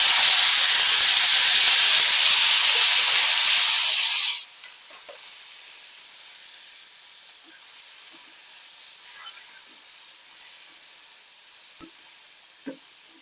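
Tomatoes dropped into hot oil for chutney give a loud, dense sizzle for about four seconds, which cuts off abruptly to a faint background with occasional small clicks.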